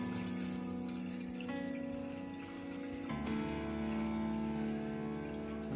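Water runs and pours into a heated pan on a gas stove while soya chunks curry is cooked, a steady close splashing stream with no talk.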